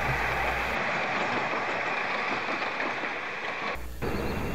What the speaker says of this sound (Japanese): あれは野町の方から鶴木の方を向いて走っている電車ですね。